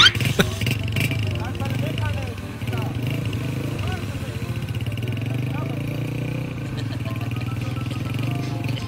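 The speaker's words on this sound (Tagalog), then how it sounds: "Dalawang motor talaga para mas malakas." Motorcycle engines rumble and rev in uneven bursts while people talk and shout over the noise.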